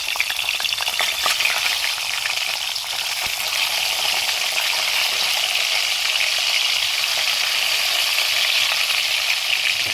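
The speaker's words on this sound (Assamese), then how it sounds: "এতিয়া কণীকেইটা প্ৰথমতে ফ্ৰাই কৰি লওঁ।" Eggs fry in a hot wok of oil seasoned with salt and turmeric, a loud, close, steady sizzle with bubbling crackle throughout and no voices.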